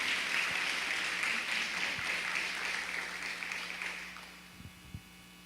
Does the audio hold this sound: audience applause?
yes